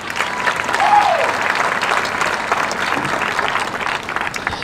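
A crowd at the West Lampeter Community Fair queen evening applauds Mrs. McMichael with sustained, even clapping that holds at a full level throughout, with only faint murmurs mixed in.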